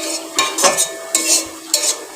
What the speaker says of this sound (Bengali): আলু ভাজছি উড়ে গেল একটু